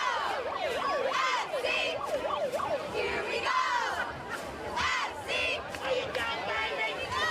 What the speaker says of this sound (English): I keep hearing that siren going off, and I think it's the scoreboard